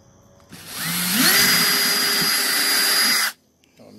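Power drill boring bolt holes through plexiglass for a solar RV battery box, one close, loud whirring run of about three seconds that rises in pitch as it spins up, then stops.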